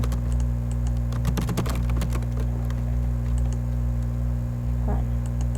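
Fast, busy typing on a computer keyboard, with bursts of clattering key presses that thin out after a couple of seconds, over a steady electrical hum.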